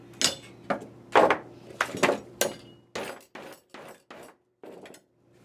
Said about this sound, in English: Hammer it flat.